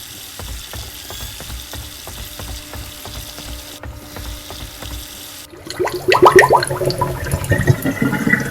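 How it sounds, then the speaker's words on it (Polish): Water runs and splashes in a horror video game, a faint steady trickle at first, then a louder, rougher gush with clattering after a short pause. "Gdzieś tu się woda leje."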